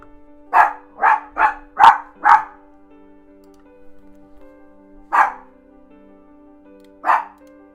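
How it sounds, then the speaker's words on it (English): A dog barks loudly and close by: five quick barks in a burst, then two single barks after pauses, with a quiet room otherwise. "My dog's tweaking out here."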